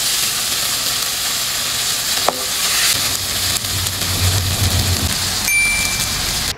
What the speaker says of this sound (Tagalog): Tsaka lang natin ito mekos-mekos mga katrops para mag-combine nga yung mga nilagay nating pampalasa.